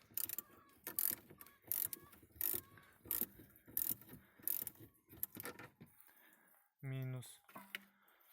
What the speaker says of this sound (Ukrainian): Відкручуємо другу клему.